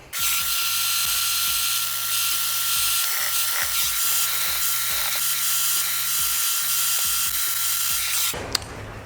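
A power tool tightens fasteners on a Can-Am Defender rear windshield, its close, loud whirring motor running in repeated bursts with rapid ratcheting clicks, ending in a short sharp clatter.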